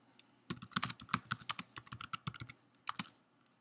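Close, uneven bursts of keystrokes on a computer keyboard, with quick clattering runs of clicks, brief pauses and a few final taps, and no voices.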